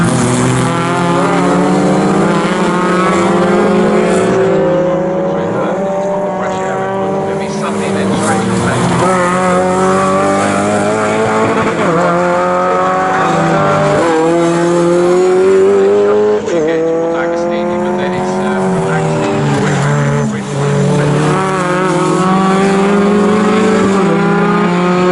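Sports 2000 race cars lapping Snetterton circuit during a championship race, engines droning and shifting pitch as cars pass, continuous under steady commentary from a race announcer.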